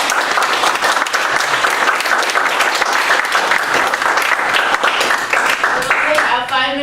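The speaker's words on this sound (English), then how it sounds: "let's give Dylan another round of applause" Loud, sustained audience applause after a technical seminar talk on Alloy 617 for next-generation nuclear power plants, dense clapping filling the room throughout, with voices emerging at the very end.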